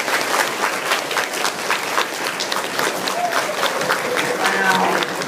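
An audience gives a youth ambassador named Kristin a round of applause after her Tourette Syndrome presentation, with dense, steady clapping from a crowd throughout and a few voices mixed in.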